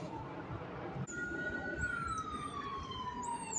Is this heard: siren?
yes